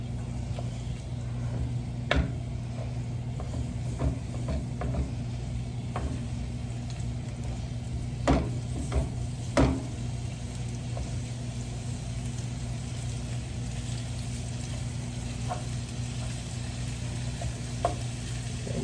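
Frying food broken up with a wooden spoon in a hot pan while making lasagna: a steady sizzle runs throughout, with occasional scraping and tapping of the spoon against the pan, close by and with no talk.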